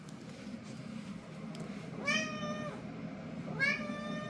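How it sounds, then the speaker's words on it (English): A house cat meows twice, a couple of seconds apart, each call rising and falling, heard fairly close over a quiet room with a low background hum. "Let me get the cat."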